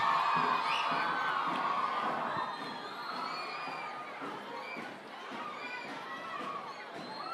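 A crowd cheers and shouts at an event honouring a president, the noise loudest at the start and then easing into a sustained murmur of whoops and calls.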